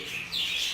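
Budgerigar chicks chirp in soft, high, continuous peeping that grows slightly louder midway, close by and without talk.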